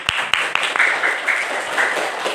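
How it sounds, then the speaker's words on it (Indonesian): A classroom group gives brief applause: a few sharp, distinct claps up front, then lighter scattered clapping with some high-pitched voices mixed in. "Tepuk tangan dulu."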